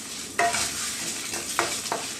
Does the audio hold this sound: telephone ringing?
no